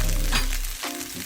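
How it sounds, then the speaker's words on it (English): Seared shrimp tipped into a hot pan of Chinese house fried rice sets off loud sizzling and frying with a couple of stirring scrapes, no talking. "let's go in with all of that food that, you know, shrimp and stuff that was seared up."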